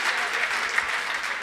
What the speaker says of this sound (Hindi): तालियां जरा जोरदार बजा दीजिए एक बार